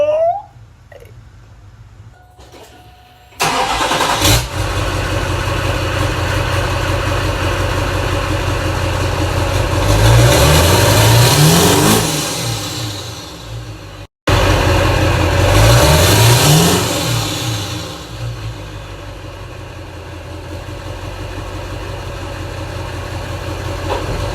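A Duramax diesel truck engine with a hood stack rumbles at idle, then revs hard in two rising bursts separated by a brief cutoff, loud and close with no talking.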